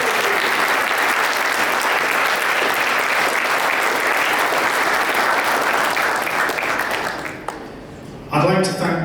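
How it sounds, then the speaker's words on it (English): Audience applause at a national dinner, steady dense clapping from a large room that dies away near the end before a voice starts speaking. "Big round of applause."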